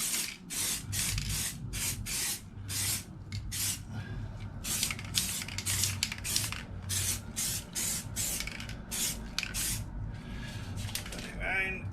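Bursts of spray paint hiss onto a motorcycle wheel in repeated, evenly spaced passes, each a few seconds long with short breaks, close and steady, over a low background hum.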